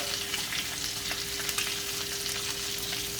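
Pork chop fat sizzles steadily in a cast iron pan, a dense continuous frying hiss with small crackles and pops throughout, close and even, with no talking.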